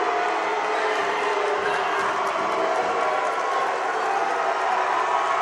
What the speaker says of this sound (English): Logan takes the foul, and the turnover, you hear the crowd.